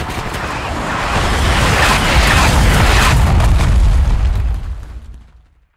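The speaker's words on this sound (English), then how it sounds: "Throwing grenade!" A grenade blast in Black Ops 6 swells into a heavy, rumbling explosion. It roars loud and close for several seconds, then trails off into silence.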